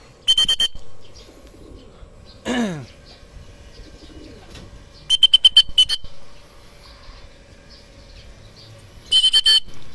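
Racing pigeons arriving at a loft after a 106 km training flight from San Pablo, Laguna: short bursts of fluttering and flapping wings, one swooping call-like sweep, close by, with quiet background between bursts.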